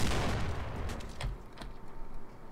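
Grenade explosions in the video game ba_jail_blackcells: a burst of heavy, close blasts and sharp cracks at the start, followed by several scattered lighter pops as the rumble fades.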